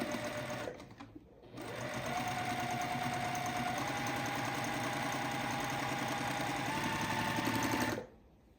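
A sewing machine stitches stacked quilt block pieces for a lotus block, running loud and steady for several seconds after a brief stop near the start, then cutting off abruptly.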